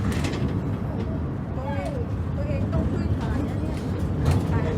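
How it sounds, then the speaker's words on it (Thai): A tram climbs at Khao Wang, its steady low rumble and mechanical drone continuous throughout, with faint squeaks and scattered background noise. "บรรยากาศบนรถรางขณะมันกำลังเคลื่อนนะคะ"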